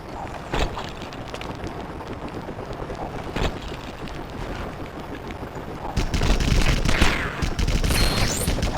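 Rapid bursts of gunfire from the LEGO Batman video game, a dense continuous fusillade with sharper cracks standing out and a heavier, louder barrage near the end.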